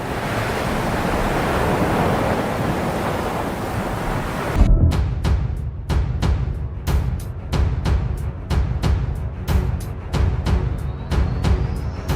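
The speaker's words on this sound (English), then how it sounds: "colossal wave crashed down. Its remains were left scattered across the water." A colossal ocean wave crashes down, a loud continuous roar of surf that cuts off abruptly into a series of sharp, evenly spaced clicks over lower rumbling water.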